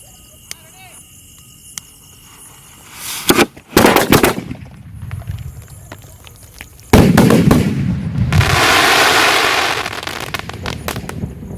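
Sonny Fireworks Speed 5 sky shots burst outdoors: a sharp crack and a rapid cluster of loud booms, then a long crackling roar of explosions, with voices murmuring in the background.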